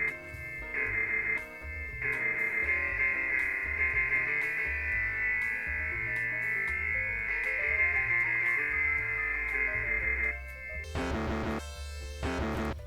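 Music run through a telephone filter effect in FL Studio, with a Mario 64 and Genesis style soundfont: thin, band-limited melodic tones with steady pulsing bass over about ten seconds, then a louder, brighter, fuller passage at the end.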